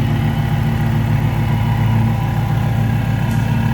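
A 5.4-liter dual overhead cam V8 in a 2010 Ford Mustang Shelby GT500 idles steadily up close, a deep, even rumble with a faint rhythmic pulse and no change in revs.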